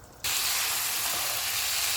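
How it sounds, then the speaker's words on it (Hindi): Beef frying in a pan over full flame bursts into loud, steady sizzling after a brief quieter moment, a close, dense hiss that continues without a break. "अब हम चूल्हे को फुल कर देते हैं और इसको भून लेते हैं।"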